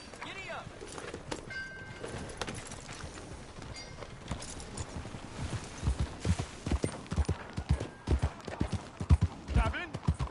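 Horse hooves galloping in the video game Red Dead Redemption, a quickening run of thudding clip-clops that grows louder toward the end, with game voices and other sounds mixed in.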